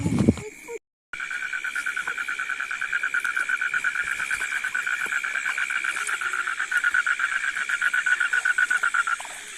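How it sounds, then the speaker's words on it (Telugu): Frogs croak in a dense, steady pulsing chorus at night beside water near a crab-hunting spot, the rapid repeated calls carrying evenly throughout, with insect-like buzzing underneath and no talk. "మేమైతే ఎప్పుడు గడ్డకి వెళ్ళినప్పుడల్లా ఈ కప్పల గోళ ఒకటి చాలా"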